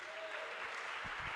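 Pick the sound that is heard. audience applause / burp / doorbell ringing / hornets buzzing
audience applause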